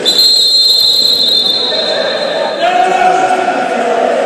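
A referee's whistle sounds at an amateur football match between FC Steaua and Pantzer Vidra, a loud sustained blast followed by a second shorter tone, over crowd and field noise.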